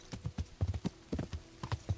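Horse hooves clip-clopping in the medieval game Kingdom Come: Deliverance, an uneven run of close, heavy thuds with a brief whinny as the horse scrambles over steep ground.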